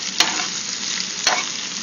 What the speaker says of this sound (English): I'm pretty happy with coconut oil because it's cooking my zucchini quickly